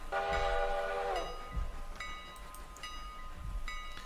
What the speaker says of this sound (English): We are going to go ahead, though, and get the passenger train rolling.